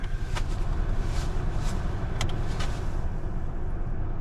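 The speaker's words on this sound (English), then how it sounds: "So we're about 53 decibels right now in here at idle, and that's with the AC running." A 2006 Ford E350 idling with the air conditioning running, heard from inside the cabin as a steady low engine hum under an even fan hiss, with a few faint clicks.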